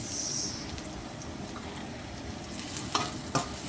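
Chicken adobo fries with steady sizzling that fills the clip as a spatula scrapes and stirs, with a couple of sharper clinks near the end.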